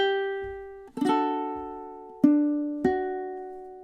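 A ukulele plays measure 12 of the MASH theme, with a few plucked notes and strummed chords ringing out and decaying slowly, close and clear, with no voice.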